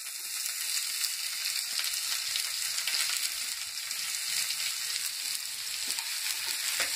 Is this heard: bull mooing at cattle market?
no